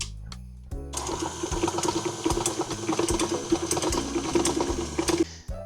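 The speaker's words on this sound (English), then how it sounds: "Now we're going to just turn the mixer on and cream it for about 2 minutes." An electric stand mixer creams ingredients, starting with a click and then running as a steady, loud whir with a fast rhythmic ticking throughout before it switches off near the end.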